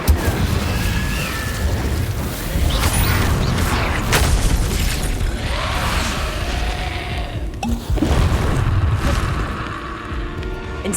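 Incendio fire spells cast in the Hogwarts Legacy video game burst out as repeated booming whooshes over a dense, continuous bed of game effects and rumbling action, loud and close throughout.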